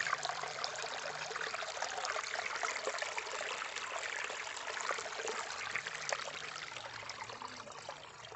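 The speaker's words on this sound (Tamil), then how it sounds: "பாருங்கள் எப்படி வருதுன்னு தண்ணி." Water from a mountain spring flows along a sandy stream at the foot of the Western Ghats, a steady close-up trickling and babbling wash that runs evenly throughout with no voices.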